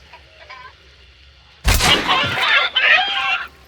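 A sudden loud burst of squawking and clucking chickens in the video game Hunt: Showdown erupts after a quiet stretch, harsh and close, lasting a couple of seconds.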